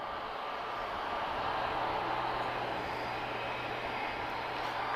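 The TAP Retrojet airliner, an A321neo, moves at Lisbon Airport, its engines giving a steady, constant roar that holds at the same level from start to finish.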